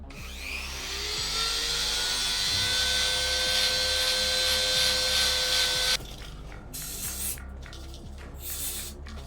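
A rotary power tool widens a hole in an airsoft SSR249 part, a sustained high whine that rises as it spins up, then cuts off into intermittent rough grinding bursts.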